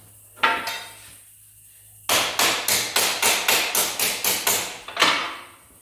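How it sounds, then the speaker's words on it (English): Hammer blows against a dolly flatten a crease in sheet metal, two sharp strikes then a steady run of about ten evenly spaced, loud ringing taps, close by and without voices. "Usually what I'll do is I'll dolly that flat."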